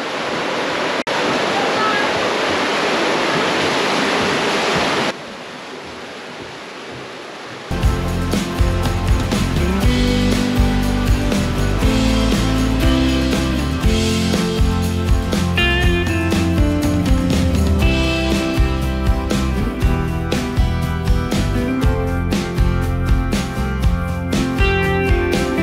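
A curtain of water pours inside a cave in Fiordland, New Zealand, first as a steady broadband roar, then briefly quieter before loud, busy sound takes over for the rest.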